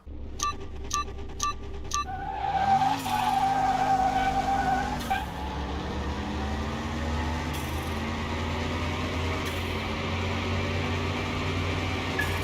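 A drag car on racing slicks in Car Mechanic Simulator 2021 spins its wheels at launch: a few beeps, then a rising engine roar and a long tire screech that fades into a steady drone, with no talking.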